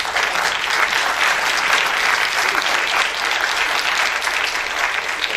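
Sustained, dense applause from a conference audience at the closing of a conference, steady and loud throughout with no break.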